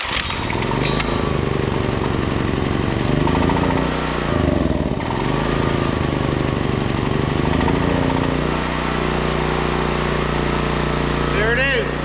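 A small engine on an old, abandoned Honda generator chugs loudly and unevenly, then settles into a steady running drone that continues throughout.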